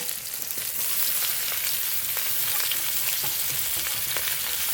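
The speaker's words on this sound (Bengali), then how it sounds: "কেটে ধুয়ে রাখা পালং শাক ফোড়নের উপর দিয়ে দেবো" Chopped spinach tossed onto a hot spice tempering in a pan for spinach dal, giving a steady, close, broadband sizzle and crackle with faint stirring ticks, continuous throughout and with no talking.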